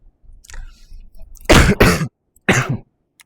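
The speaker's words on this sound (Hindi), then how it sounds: "थोड़ा खांसी हो गया है" A few sharp, close coughs in quick succession, preceded by a quieter throat clearing, then silence.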